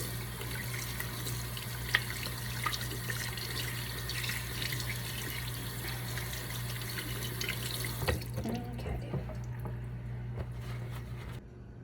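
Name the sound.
washing hands with soap and water at the tap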